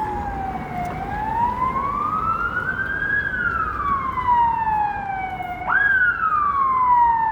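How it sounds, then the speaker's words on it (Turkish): A loud wailing ambulance siren rises and falls in long sweeps, with a sharp restart near the end, over steady traffic rumble in Taksim, Istanbul. "Bir ambulansın sirenleri acı acı çalıyor."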